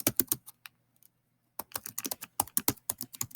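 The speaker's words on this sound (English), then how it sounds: "And I'm going to type my title." Quick bursts of keystrokes on a Chromebook keyboard, close and crisp, with a short pause before the typing resumes in a rapid run.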